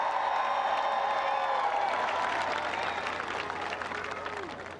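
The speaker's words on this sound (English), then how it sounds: "Give her a big round of applause." A large crowd at a political rally applauds loudly and continuously, the clapping tapering slightly toward the end.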